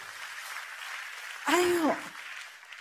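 Scattered congregational clapping in a church runs softly in the background while a single voice briefly calls out over it partway through.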